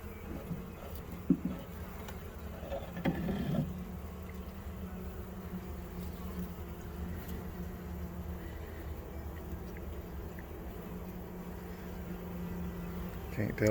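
Honey bees drone steadily inside a swarm trap, where comb has already been drawn. The buzzing is close and continuous, with a few brief louder bumps near the start.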